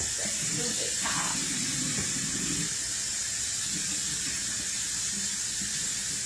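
Cold water runs steadily from a kitchen tap, a constant hiss that fills the whole stretch, with faint muffled sounds in the background early on.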